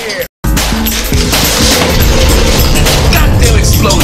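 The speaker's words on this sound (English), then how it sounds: "Goddamn explosion, man!" A loud explosion in Apex Legends on the Nintendo Switch erupts right after a brief dropout, then a dense, booming roar of game noise sustains at full level.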